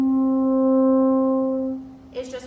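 A French horn sounds a sustained G, one partial above middle C, as a single steady note. It fades after about two seconds, and a faint voice starts just after it ends.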